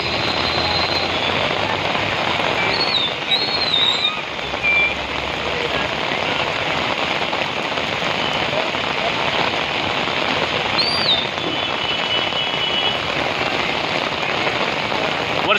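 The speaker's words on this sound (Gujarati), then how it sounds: "વરસાદ ચાલુ છે અત્યારે" Heavy pre-monsoon rain pours onto a flooded street in Surat as a loud, dense, continuous hiss, with a few faint vehicle beeps and a voice murmuring underneath.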